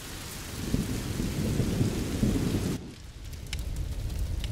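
Heavy rain with rolling thunder from a thunderstorm in the video game A Plague Tale: Innocence, a loud dense downpour that drops to a lighter steady patter partway through, with no voices.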